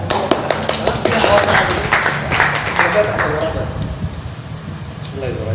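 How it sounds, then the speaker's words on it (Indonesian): Group applause at a Perindo party meeting in Pekanbaru: a few sharp separate claps build into a dense, loud wash of clapping that slowly thins out, with voices mixed in. "Tepuk tangan kita ada"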